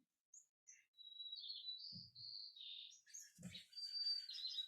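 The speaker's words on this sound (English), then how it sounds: "we'll notice the bird having paused its song with an occasional chirp. I could see the sparrow right here." A sparrow's chirps and high twittering notes come in short, scattered bursts, faint and clear against an otherwise quiet background, with a couple of soft low thumps.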